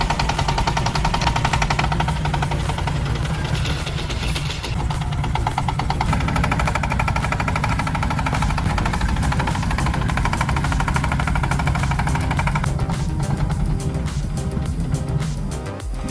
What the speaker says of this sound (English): A two-wheel drive tractor roared, struggled to pull a heavy cart of firewood, trying to overcome the challenging steep slope.